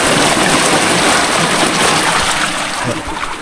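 Loud, steady rush of water gushing from a fishpond outlet, a broad continuous roar close by that eases slightly toward the end, with no voices.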